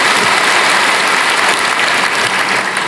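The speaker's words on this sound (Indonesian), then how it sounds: "Berikan tepuk tangan kita untuk Tuhan." Congregation applauding in a church, a steady dense wash of clapping from many hands, loud and continuous for a few seconds.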